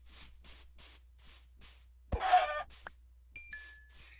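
Blocky Minecraft chickens give a few short, clucking squawks in a burst near the middle, standing out from soft rhythmic game sounds and a couple of chime-like tones toward the end.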